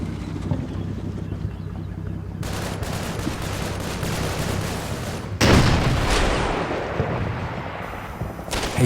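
High-explosive shells landing in the World War II tactical game Combat Mission Normandy, France 1944: a continuous rumble of distant gunfire and blasts, with a sharper, louder impact around the middle and steady battle noise throughout.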